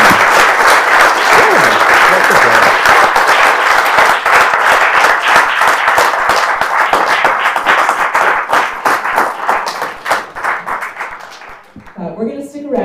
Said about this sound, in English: I'll ask you to join me in a round of applause for Max and Ryan.